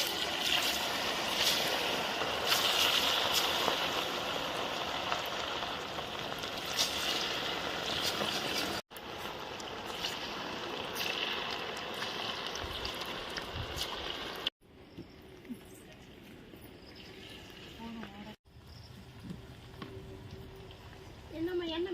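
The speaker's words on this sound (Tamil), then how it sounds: "எண்ணெய் சூடா அடிச்சு சிக்கன் பொரிச்சுக்கலாம்." Chicken frying in hot oil in a pan gives a steady, dense sizzle and crackle that runs the whole time, easing off in the later part as a voice talks over it.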